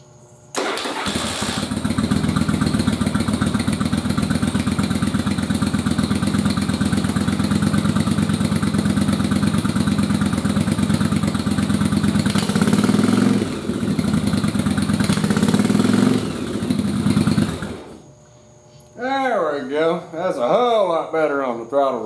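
A motorcycle engine with a rebuilt, re-jetted carburetor fires up and idles loudly and close for about seventeen seconds, wavering and revving slightly near the end before cutting off, then a voice speaks.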